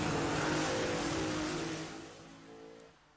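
A car engine revving, meant to be a Cadillac, heard as a quiet, fairly distant rev whose pitch climbs and then fades away over a few seconds, with no talking.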